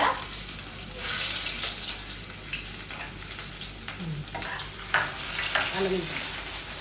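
Onions sizzle and crackle steadily in a hot pan, with occasional stirring scrapes close by.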